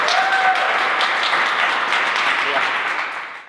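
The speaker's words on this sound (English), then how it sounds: "we'll clap it up." A group claps together during a CrossFit recap show, a steady wash of applause that holds evenly then fades out at the end, with some voices mixed in.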